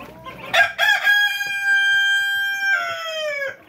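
A Rhode Island rooster in a backyard farm gives one loud, close cock-a-doodle-doo with a long sustained middle note. Faint clucking can be heard before the crow.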